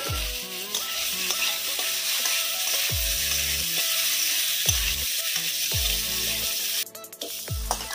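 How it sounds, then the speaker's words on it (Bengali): Potatoes frying in hot white oil in a wok, a loud continuous sizzle and crackle close by, broken by several low knocks of a utensil stirring against the pan and a brief hissing burst near the end, with no talk. "সাদা তেল দিতেছি, আলু ভাজমু"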